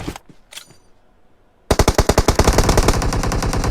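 PUBG Mobile gunfire: a few faint shots echo, then a loud, close automatic burst of rapid, evenly spaced rounds rattles on without pause.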